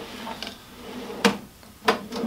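A drawer box dropped onto Hettich Quadro U drawer slides, giving two sharp knocks about half a second apart, with quieter clicks before and after, close up and with no talk.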